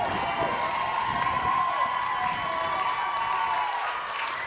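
At a Year 7 and 8 school sports final, with Outwood Haydock Academy playing Bedford High School, a crowd claps and cheers in a sustained, fairly loud burst of noise across the whole stretch.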